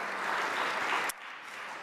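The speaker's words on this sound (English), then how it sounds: "Let's give a huge round of applause to all of those people who are here tonight." Audience applause at an awards ceremony, a steady wash of clapping from a crowd that cuts off abruptly after about a second.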